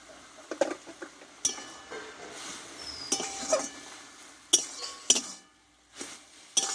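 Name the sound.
stirring jute greens in a pan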